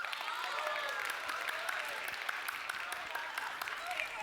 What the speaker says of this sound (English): Can we give Rod a round of applause?